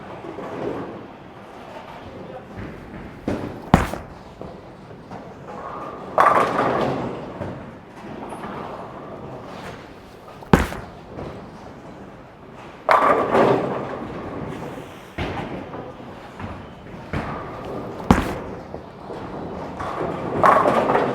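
A Columbia 300 Power Torq bowling ball is thrown down a lane several times; each shot ends in a muffled thud and a clatter of pins, spaced several seconds apart, moderately faint, with no talking.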